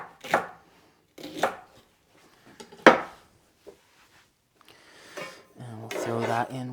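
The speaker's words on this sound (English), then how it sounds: "again just giving them a rough chop" Celery being roughly chopped with a knife on a board for stock and braising liquid: several separate heavy chops, spaced apart, followed by a clatter of kitchen items.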